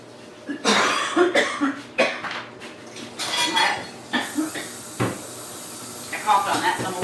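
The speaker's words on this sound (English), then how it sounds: "I coughed on that" Someone coughs close by in a kitchen while cooking a chicken alfredo bake, amid clattering dishes, clinking utensils and cupboard sounds, with a person talking in between.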